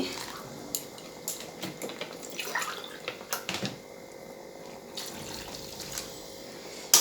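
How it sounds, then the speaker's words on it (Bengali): Water poured into a pot of sour mango chutney made with skins and stones, a light splashing and trickling with scattered faint clinks of utensils, quiet and close, with no talk. "টকের মধ্যে অল্প ঝুল দেব জল দিয়ে দিচ্ছি"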